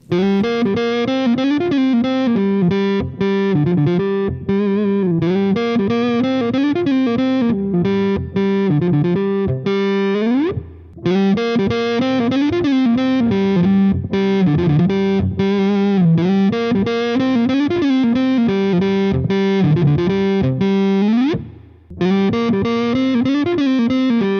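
Overdriven electric guitar, a Les Paul-style single-cut with tone knobs rolled off, plays a continuous melodic phrase with a warm, smooth, dark tone, loud and close, pausing briefly twice.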